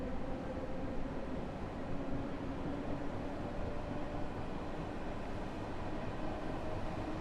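Simulated Harlem Line train running in Train Sim World 2, an M3A unit: a continuous low rumble of wheels and traction with a faint steady hum, unbroken and without speech.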